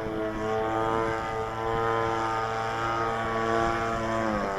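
Radio-controlled Extreme Flight model airplane flying overhead, its small propeller engine giving a steady high buzzing whine with shifting pitch, fairly loud and continuous, no talk.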